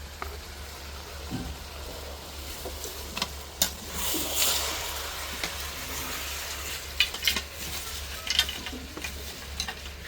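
Meat frying in oil with bay leaf, a steady low sizzle under occasional stirring clatter and sharp utensil knocks against the pot, no talking.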